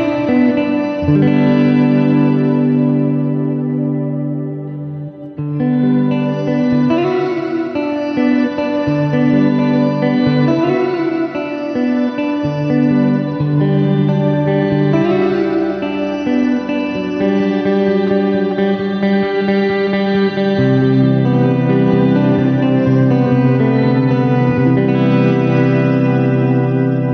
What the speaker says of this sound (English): And as the reverb and everything gets bigger, throwing in that low pass filter is going to tame it.